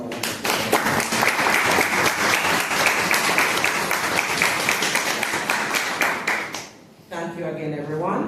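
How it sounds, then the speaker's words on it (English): Audience applause at a Denbigh High School visual arts department event, with dense, steady clapping for about seven seconds that cuts off abruptly, followed by a voice speaking. "Let us give Doc and Mr. Codlin a round of applause."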